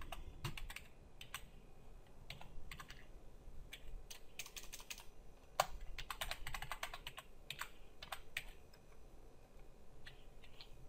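Typing on a computer keyboard while entering a street address, irregular bursts of quick clicking keystrokes with short pauses, close and fairly quiet, no voices.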